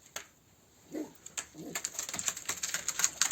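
Pet pigeons or doves give soft, low cooing in two short bursts, with light tapping and rustling building up behind them at a quiet, close level.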